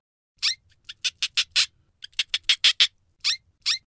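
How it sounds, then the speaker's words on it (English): Short, high-pitched squeaks from a hamster come in quick bursts of two to five, with brief pauses between groups, standing out clearly against a quiet, low background. "Hamster."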